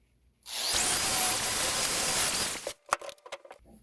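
A Chicago Electric angle drill runs on a wheelbarrow repair with a loud, steady whirring grind for about two seconds, then stops, leaving a few sharp knocks and clatters close by.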